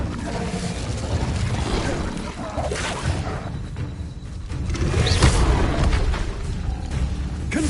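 Incendio fire spell cast in Hogwarts Legacy: loud booming fiery bursts and roaring flames in dense game audio, with a voice calling out spell names.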